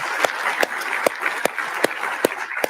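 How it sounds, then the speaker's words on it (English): Audience applause at a university health sciences research induction ceremony for PhD students: a dense, steady patter of many hands clapping, with a few sharper claps standing out at regular intervals throughout. "please stand up and receive a well-earned round of applause"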